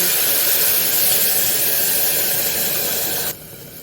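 Tamarind juice pours into a hot pan of fried onions for sambar, raising a loud, steady sizzling hiss that stops abruptly near the end.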